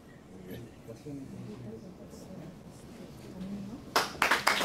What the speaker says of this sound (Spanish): Fuertes palmas.